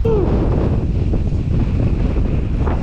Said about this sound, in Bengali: একদম বাতাসে নিয়ে যাইতেছে।